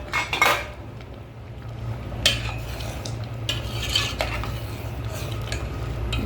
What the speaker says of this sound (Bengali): চলুন ঢাকাটা খুলে দেখা যাক কীরকম হয়েছে।